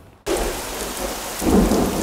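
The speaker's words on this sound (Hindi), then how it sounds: "बाहर बारिश भी बहुत हो रही है" Heavy rain pours steadily with a deep rumble of thunder swelling near the end, loud and continuous with no voices.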